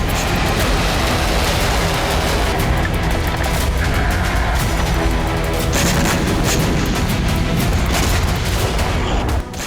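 Air defense interceptions and explosions over Iran at night form a loud, continuous rumbling roar with repeated booms and crackling bursts, dense and unbroken until a sudden drop at the end.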